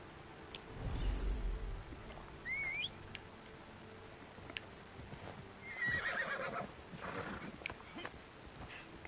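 A horse in the Assassin's Creed Origins video game whinnies and snorts among steady clip-clopping hooves, moderately loud and close, with scattered bird chirps in the game background.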